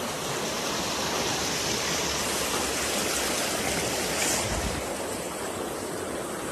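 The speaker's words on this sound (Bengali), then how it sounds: "পানির কত সুন্দর স্রোত, কত সুন্দর সাউন্ড।" Stream water flows and rushes near Amtolipara waterfall, a loud, dense, unbroken roar of moving water with no voices.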